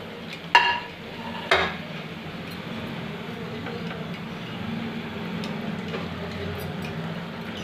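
Gluten-free millet (bajra) snacks fry in hot oil in a kitchen pan and are turned over as they cook. Two sharp utensil clinks come near the start, then a steady, soft sizzle of oil carries on alone.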